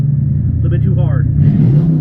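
A 1957 Ford Country Sedan engine in a car wash bay gives a loud, low, steady rumble that swells briefly near the end, while people talk over it.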